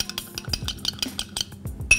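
Baking soda being stirred into a little water for falafel: quick, light clinks and scrapes of a utensil against a small dish or glass, in a fast irregular rhythm, close and fairly quiet.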